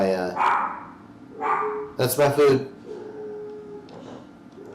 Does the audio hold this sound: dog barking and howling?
yes